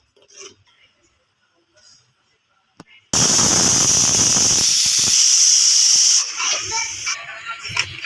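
A loud, steady hiss of steam bursts from a pressure cooker cooking chicken pulao for about three seconds, then tapers into softer sputtering hisses.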